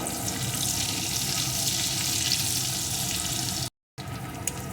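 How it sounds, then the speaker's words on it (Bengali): Chopped onion frying in hot oil after tempering spices, cooked for a crab curry: a steady, close, even sizzle with a faint watery hiss, broken by a short dropout near the end, with no speech. "পেঁয়াজ কুচিটা একটু ভেজে নেব"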